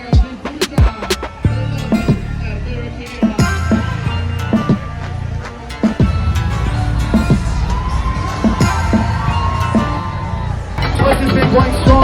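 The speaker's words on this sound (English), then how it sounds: "Join us for some people watching as we take a quick tour through the crowd." A lively crowd on South Beach in Miami keeps up a constant babble of voices, with shouts, whoops and sharp bursts breaking through close by.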